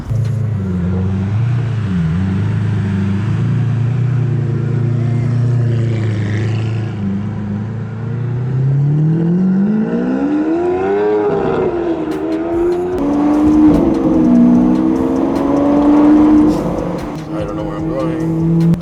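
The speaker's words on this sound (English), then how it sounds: "we are in car, the Lamborghini Aventador SV. It might be a little loud in here." Engine of a Lamborghini Aventador SV heard from inside the cabin while driving in traffic, a loud low drone that rises in pitch as it revs up and then holds at a higher whine.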